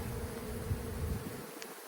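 Honeybees removed from a section of power pole buzz in a thick, steady drone close by, holding level for nearly two seconds before the low end drops away near the finish; no voices.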